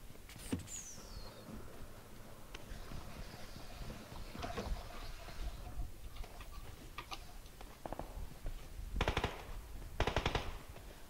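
Gunfire in the battle royale game PUBG, heard as bursts of rapid automatic shots and sharp single cracks at moderate distance, scattered across the stretch with quieter gaps between.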